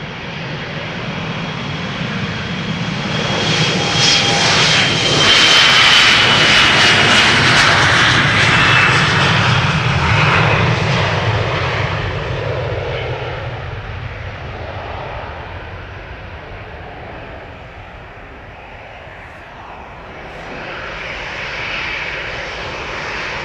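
A KLM Boeing 737-800 jet departs Amsterdam Schiphol for London Heathrow, its loud engine roar with a whining tone building to a peak early on, then receding into a fading distant rumble before another swell rises at the end.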